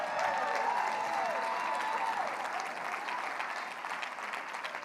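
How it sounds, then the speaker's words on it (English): A keynote audience applauds loudly and continuously as a guest is welcomed onstage, a dense wash of clapping that stays strong and tapers slightly toward the end, with a voice briefly audible over it. "Give her a round of applause."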